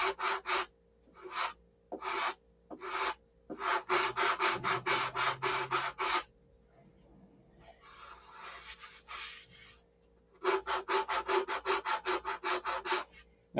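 Superfill body filler on a Viper is hand sanded in quick rhythmic bursts of rasping strokes, with short pauses between sets and one softer, scratchier passage, close and clear with no talk.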